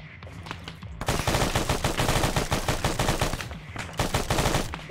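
Heavy automatic gunfire in a military shooter game, dense bursts of rapid shots rattling almost continuously after a brief quiet start, loud and close with overlapping reports.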